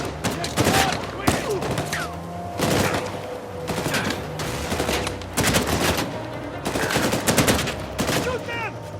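Heavy exchanges of gunfire in Uncharted 4: A Thief's End, repeated volleys of rifle and automatic shots in loud clustered bursts with short gaps, alongside game voices calling out.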